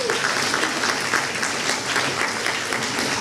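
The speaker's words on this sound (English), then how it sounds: "Please give me a round of applause" A graduation reception crowd bursts into loud, sustained applause, a dense uniform roar of many clapping hands that fills the room without a break.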